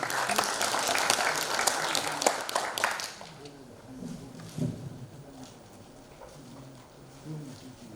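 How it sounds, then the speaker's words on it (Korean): An audience at a cultural center anniversary event applauds to welcome a lecturer, a dense, fairly loud burst lasting about three seconds, then a quieter room with faint murmuring. "큰 박수로 환영하겠습니다"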